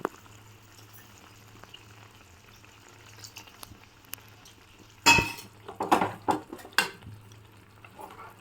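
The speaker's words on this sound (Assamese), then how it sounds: "পানী তৰকাৰীখিনিত উতল অহা মাত্ৰকে মই ইয়াত এই পাভ মাছকেইটা দি দিছোঁ" Fish curry with pabho fish boils in a pot, starting as a quiet simmer before several sharp, close clatters and splashes burst out as the fish goes in.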